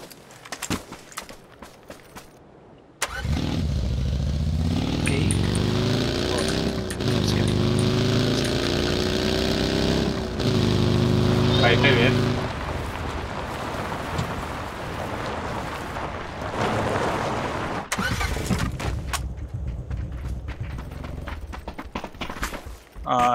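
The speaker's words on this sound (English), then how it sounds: "Did anyone like start the car?" A vehicle engine in a PUBG match fires up abruptly and runs loudly, its pitch climbing and wavering as it revs, then settles into a steady rumble before cutting off amid quieter game noise.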